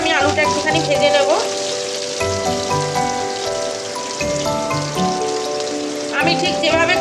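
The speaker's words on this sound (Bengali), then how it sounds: "দেখুন এটা অল্প একটু নুন দিয়ে আমি আলুটা একটুখানি ভেজে নেব।" Potatoes frying in oil with a little salt in a pan, a steady hiss of sizzling beneath prominent background music.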